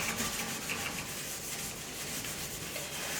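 Dried grease is scrubbed out of an oven with baking soda, a close, continuous rough rubbing and scouring in quick back-and-forth strokes.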